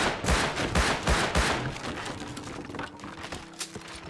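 Rapid gunfire from the survival video game Rust: a quick string of sharp, loud shots in the first second and a half, then fainter scattered reports and clicks trailing off.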